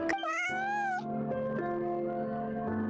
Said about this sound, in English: she meowed back.